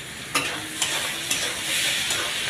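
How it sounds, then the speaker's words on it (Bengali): Onions frying in oil in a pan, a steady close hiss of sizzling with a few soft stirring scrapes at regular intervals, no voices. "পেঁয়াজটাকে ভাজা ভাজা করে নিচ্ছি"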